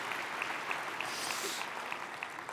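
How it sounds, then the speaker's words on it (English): Scattered, fairly faint applause from a programming conference audience, with a murmur of voices under the clapping. "Come on, that's applause for that."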